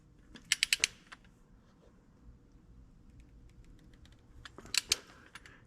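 Torque wrench clicking as 3/8 oil pan bolts on a John Deere 4840 tractor are tightened to 35: a quick burst of four sharp clicks, a long quiet pause, then another short cluster of clicks, close and fairly faint.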